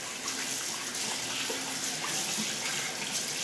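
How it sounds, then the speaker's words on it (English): Kitchen tap running steadily as hands are rinsed under it, a close, continuous hiss of splashing water with no pauses. "I'm going to rinse off my hands."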